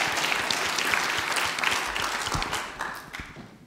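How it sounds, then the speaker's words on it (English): Audience at an audit conference applauding a speaker, dense clapping from many hands that stays steady, then thins and fades out toward the end, with no talking. "Give him a big applause."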